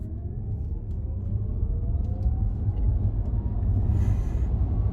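A 2021 Audi e-tron electric SUV accelerates hard at full throttle in dynamic mode, heard from inside as a steady low road rumble and tyre roar that swells gradually, with a faint rising whine above it.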